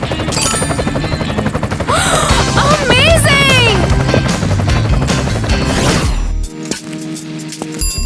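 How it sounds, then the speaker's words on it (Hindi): A helicopter in a Hindi animated story about a girl adopted by the president, heard as a loud sustained whirring roar with crashing clatter and a bright musical sting, while a voice exclaims over it. "ओह, और ये रहा हमारा हेलीकॉप्टर।"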